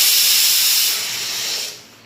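A pressure cooker of chickpeas boiling over on a gas stove gives a loud, steady steam hiss that weakens and then cuts off.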